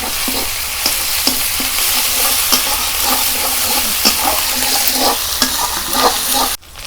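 A spice masala with ginger paste and tomatoes is stir-fried in oil for a Bengali tel koi fish curry. A loud, continuous sizzle fills the whole stretch, broken by repeated scraping strokes of a spatula stirring the pan up close.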